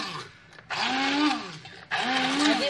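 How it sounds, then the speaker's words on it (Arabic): A blender whirs loudly in two bursts separated by a short pause, its motor pitch sliding as it grinds unpeeled tomatoes for ketchup. "غنمشي ان شاء الله نطحن مطيشه باش نقاد الكيتشوب"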